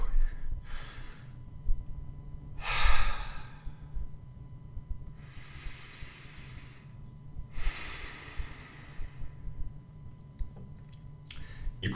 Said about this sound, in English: But you start breathing a little bit.